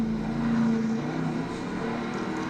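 Steady droning rotor and engine hum of a helicopter flying over the Baja 1000 off-road race, loud and continuous with a low tonal whine throughout, no voices.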